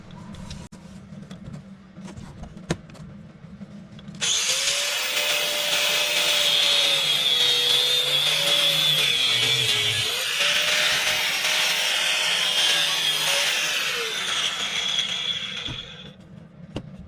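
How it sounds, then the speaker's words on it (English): A power tool, an angle grinder or reciprocating saw, cuts the handle off a cordless drill, starting abruptly after a few quiet seconds and holding a loud, steady, high whining grind close by for about twelve seconds before it winds down. "get you an angle grinder or a sawzall, whatever you got, and let's chop this handle off"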